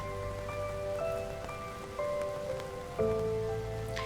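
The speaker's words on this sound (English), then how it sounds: "it now turned from normal rain to like rain underneath an umbrella" Rain drums steadily on an umbrella overhead in the Doki Doki Downpour game, a dense close patter under soft, stepped musical tones.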